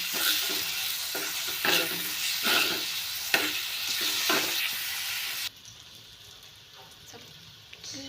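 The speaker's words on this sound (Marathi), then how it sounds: "आता त्यामध्ये आपण टाकूया टमॅटो" Chopped tomatoes with a pinch of salt fry with onion in a pan for egg bhurji, a close crackling sizzle with rhythmic stirring scrapes that drops to a quieter simmer partway through, no speech.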